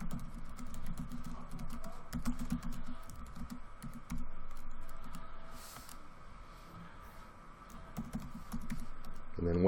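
Typing on a computer keyboard, a steady run of close, crisp key clicks over faint background noise, with no one speaking.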